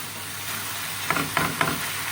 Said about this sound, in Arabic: نخليو هادشي كيتشحر مزيان